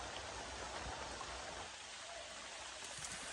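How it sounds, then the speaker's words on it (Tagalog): Steady rain pours down in a dense, even hiss that stays constant and fairly close, with no voices. "Problema, umuulan."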